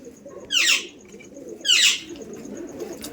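Giribaz pigeons in a loft make two short bursts of bird sound, one after another about a second apart, over steady low background noise.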